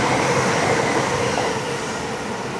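A heritage train led by locomotives 40013 Andania, 45118 Royal Artilleryman and 60532 Blue Peter with a support coach rolls past close by, a dense continuous roar of wheels and rail noise with no voices.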